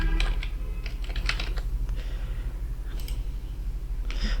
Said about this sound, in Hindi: चलो बेबी की जगह हम यहाँ पर मैन लिख देते हैं